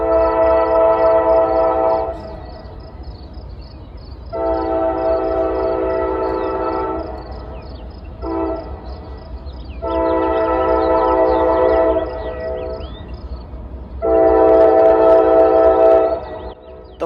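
A Norfolk Southern freight train horn blows in long, loud blasts, repeated several times with short gaps, steady and droning at close range along rails in central Ohio.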